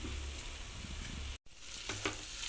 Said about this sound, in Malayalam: ചെറിയ ഉള്ളി പച്ചമുളക് വെളുത്തുള്ളി ഇത്രയും കൂടെ ചതച്ച് വെച്ചിട്ടുണ്ട് അത് ഇതിലേക്ക് ഇടാം